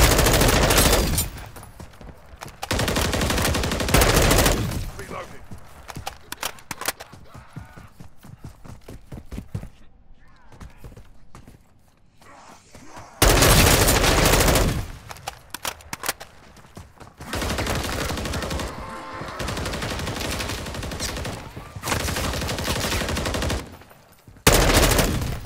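Machine gun fire in the video game Modern Warfare 3 Zombies: loud, sustained bursts of rapid automatic shots, broken by brief quieter gaps, dense and close throughout.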